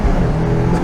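A car's engine roars under hard acceleration, a loud, close, steady revving drone with no talk over it.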